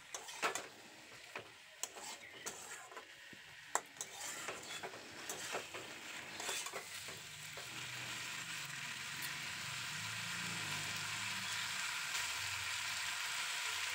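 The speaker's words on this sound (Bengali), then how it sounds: "এবার আবারও খুব ভালো করে সবকিছু একসাথে ভেজে নেব" Potatoes frying with ground spice paste in a pan: a few sharp utensil clinks and scrapes from stirring at first, then a steady, dense sizzle that grows louder and fills the rest of the clip.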